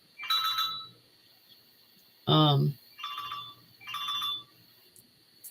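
A telephone rings in repeated electronic bursts, three or four trilling rings spaced about a second apart, with a person's voice briefly speaking between them.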